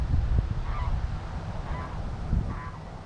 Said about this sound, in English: Another one of my enemies, a goose.